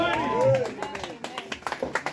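Church congregation applauding in praise, a burst of quick, uneven claps rising near the end right after a voice speaks over the room.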